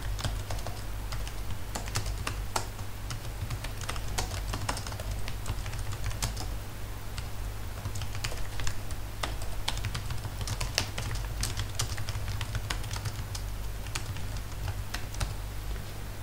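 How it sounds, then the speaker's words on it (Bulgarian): Keys clatter steadily on a computer keyboard as C code is typed into Notepad++, a dense run of close, crisp clicks over a low constant hum, with no voices. "Отваряме текстовия редактор и започваме. Нека първо напиша няколко реда, които ще обясня."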